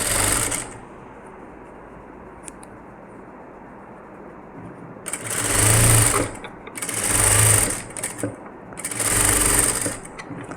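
A sewing machine stitching a blouse, running in three loud, close bursts of rapid mechanical whirring separated by pauses, after an early short burst and a quiet stretch of room noise.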